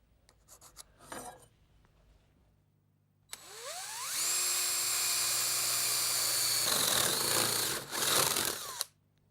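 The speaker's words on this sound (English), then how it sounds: "Now when we drill through, I'm going to come halfway from each side." A drill bores through a wooden dining table leg, a loud steady whine that rises in pitch as it spins up and holds for about four seconds, then grinds rougher as the bit bites deeper. A few brief clatters and rustles come before it.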